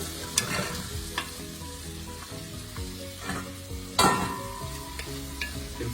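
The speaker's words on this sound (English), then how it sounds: "we saute this for about 5 minutes till everything turns soft." Onions sauteing in a pan for a Croatian lamb stew, a steady close sizzle with scraping stirs and a sharper clatter partway through, with no talking.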